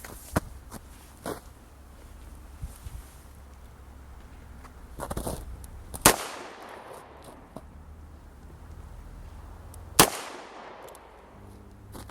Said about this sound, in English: 2 rounds out of the revolver